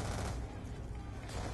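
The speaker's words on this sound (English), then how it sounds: "I swear I just heard a fucking minigun" A minigun fires in Call of Duty: Black Ops 2, a dense, loud, continuous roar of rapid gunfire amid battle noise, swelling again at the end.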